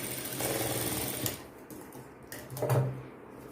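A sewing machine stitches blouse fabric with a steady rapid mechanical whir that pauses briefly and then runs again, close and alone.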